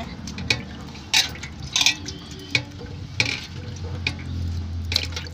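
Water sloshes and splashes in a bowl as prawns are rinsed by hand, with a few sharper splashes and drips at close range.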